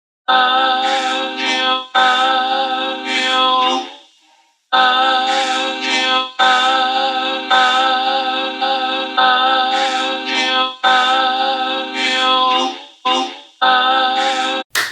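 A loud, bright synthetic sample, un-reversed and pitched back up, repeats in rhythmic phrases with short gaps between them, the same tone pattern cycling over and over without any talking.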